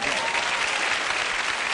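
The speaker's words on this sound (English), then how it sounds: "A round of applause for" A 1970s television game show studio audience claps in a dense, continuous burst of applause, loud and steady throughout the short stretch.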